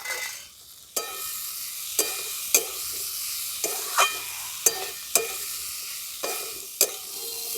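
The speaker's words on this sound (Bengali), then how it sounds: "শামুকটা দিয়ে একটু সবজিগুলোর সঙ্গে ভালো করে ভাজা ভাজা করে নেব" Fried snails are stir-fried with vegetables in a pan, a steady hiss of sizzling broken by about a dozen sharp scrapes and clanks of a spatula at irregular intervals, close and fairly quiet.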